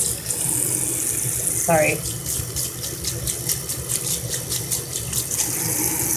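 Tap water runs steadily into a sink while a makeup brush is rinsed under it, a continuous close splashing flow, with a brief spoken word partway through.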